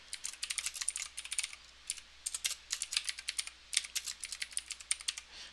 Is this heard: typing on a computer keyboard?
yes